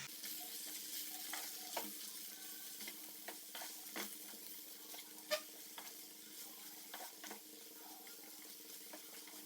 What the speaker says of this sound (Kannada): ಎಲ್ಲ ಫ್ರೈ ಮಾಡುವ, ಪುನಃ ಟರ್ನ್ ಮಾಡುವ.